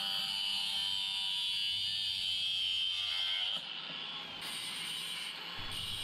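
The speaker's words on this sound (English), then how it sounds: "Then I'll cut them with my angle grinder." An angle grinder cutting steel grill burner tubes gives a steady, loud, high-pitched whine that holds continuously, then its tone dips slightly as the cut goes on, close by.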